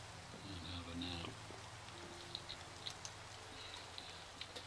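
Steady rain falls in the video game Minecraft as a soft, faint hiss with scattered light patters of drops. A few low tones sound briefly at the start.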